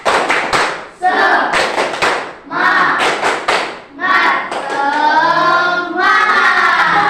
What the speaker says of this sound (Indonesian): kita tepuk semangat disambung dengan tepuk PPPK